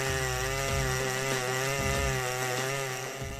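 A chainsaw felling dead oak logs roars continuously at close range, its steady high engine whine loud and unbroken with slight pitch shifts as it bites into the hard wood.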